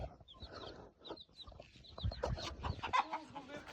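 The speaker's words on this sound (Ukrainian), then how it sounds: "Тут у нас квочка." A broody hen clucks in short repeated bursts amid village farmyard noise and rustling, with a few louder knocks and movement sounds partway through.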